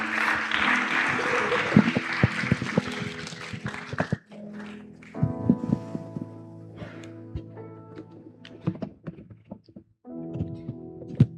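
Audience applause at a church thanksgiving service fills the first four seconds with a dense, fairly loud clatter, then gives way to quieter room sounds, scattered taps and a sustained musical tone with a few isolated claps.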